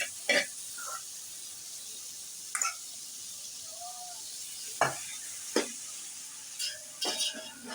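Masala gravy prepared for macaroni sizzles softly in a pan as it is stirred, a steady low hiss broken by several short scraping clinks of the spoon at irregular intervals.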